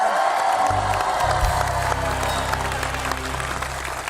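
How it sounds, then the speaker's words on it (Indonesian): A studio audience applauds a guest on an Indonesian television show, a dense steady wash of clapping with some cheering, while low music or background sound hums beneath. "Tepuk tangan lagi dong, sekali lagi dong."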